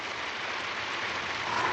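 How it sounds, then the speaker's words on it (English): Steady rain pours down at night in a frontier setting, a continuous dense hiss of drops spattering on surfaces, even and unbroken throughout with no voices. "here's the rain"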